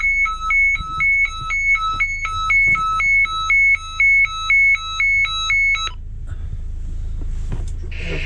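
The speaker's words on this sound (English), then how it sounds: "that alarm on our radio is a DSC alert, digital selective calling" A DSC distress alert from a marine radio aboard a boat near Corfu, a loud, steady two-tone electronic alarm beeping in a fast regular alternation for about six seconds, then stopping and leaving low background rumble.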